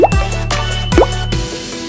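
Water drips onto cotton soaked with old marker ink, two distinct plops about a second apart, close and clear in a quiet room.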